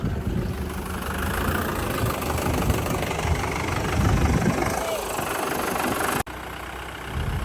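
A 575 4x4 tractor engine idles throughout, a steady low rumble continuous at close range with a brief dropout near the end, with voices faintly mixed in.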